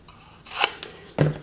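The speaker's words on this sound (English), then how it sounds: "I need my scissors." Scissors trim a small printed photo for a mini album, giving two short crisp snips about half a second apart, close and fairly quiet against a faint background hum.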